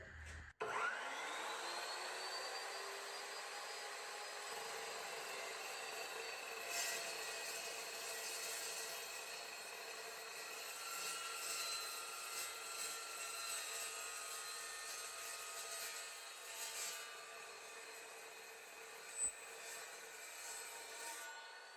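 An Evolution 14-inch miter chop saw spins up sharply and cuts a 45° angle through a metal tube, holding a steady, loud high-pitched whine and grind for about twenty seconds with no talking.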